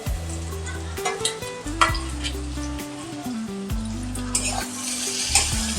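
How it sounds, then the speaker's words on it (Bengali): Spices sautéed and stirred in a pan for a hilsa head curry with taro stolons, green chillies, chilli and cumin powder: steady close sizzling with repeated scraping stir strokes, low tonal hum underneath, no talk. "সব মশলা দেওয়ার পরে একটু ভালো করে একটু কষিয়ে নিচ্ছি।"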